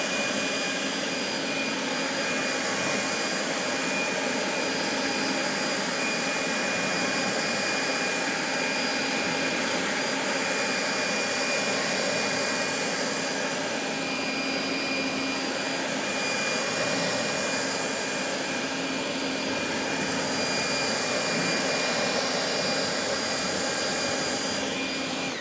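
A forced-air blower roars steadily and loudly as it dries a ceramic-coated car, a continuous broadband rush of air with no pauses for the whole stretch.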